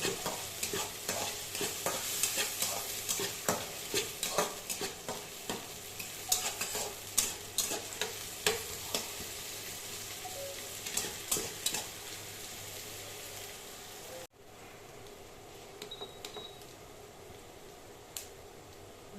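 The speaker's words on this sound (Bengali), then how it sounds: "লো মিডিয়াম হিটে এটাকে আস্তে আস্তে ভেজে নেব" Onions frying slowly in a pan over low-medium heat: a steady close sizzle broken by repeated scraping stirs, growing quieter and sparser in the last few seconds, with no voices.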